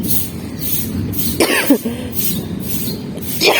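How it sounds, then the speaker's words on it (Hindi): A couple of brief coughs break through a steady, noisy background, one midway and another near the end. "मुझे अभी खांसी"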